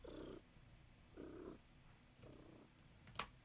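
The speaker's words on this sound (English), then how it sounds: "My cat's purring really loud in the mic." A cat purrs very close to the microphone in three soft rumbling bursts, quiet overall, followed by a brief sharp click at the end.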